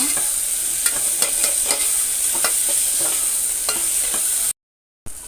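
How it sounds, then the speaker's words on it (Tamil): Steady loud sizzling of thinly sliced tomatoes sautéing in a pan, with occasional scraping stirs, then a brief cut to silence near the end. "இதையும் வதக்கிடுங்க"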